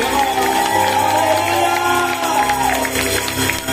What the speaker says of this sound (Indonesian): Boleh beri tepuk tangan bagi Allah kita.